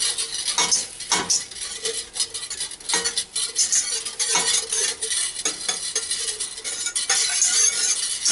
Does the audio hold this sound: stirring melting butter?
yes